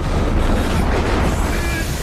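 A loud, sustained explosion rumble in an animated cultivation fantasy story, a dense roaring blast filling about two seconds without pause.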